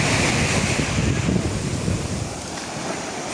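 Continuous roar of surf washing onto a sandy beach at Santa María, Havana, Cuba, loud and close, mixed with wind buffeting the microphone.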